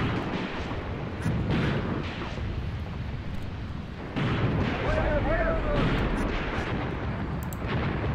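Heavy gunfire from SdKfz halftracks blasting at Soviet units in the Graviteam Tactics war game, a continuous rumbling barrage of booms and shots behind a voice talking over it.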